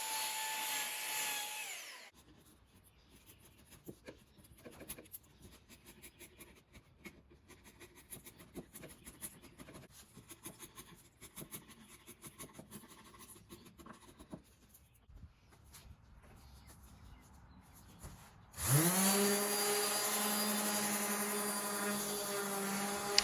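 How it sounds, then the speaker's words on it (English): Belt sander rounding over the machined edges of a live-edge walnut charcuterie board, starting with a loud motor whine, then quieter intermittent grinding contact, before the motor roars steadily again near the end. "Now I'm just taking my belt sander here and putting a slight round over on all the machined edges."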